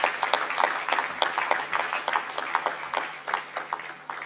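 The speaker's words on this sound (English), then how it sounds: "Let us give a round of applause to the graduates who have just been presented." Applause for graduates at a university commencement ceremony, a moderately loud run of distinct hand claps from a smaller crowd, irregular and close, tapering slightly toward the end.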